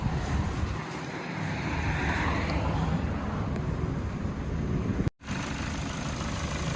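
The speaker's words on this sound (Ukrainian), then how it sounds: "Зараз продемонструю, як працює двигун." A Ford Focus 1.6-litre car engine idles with a steady low rumble close by, broken by a brief dropout near the end.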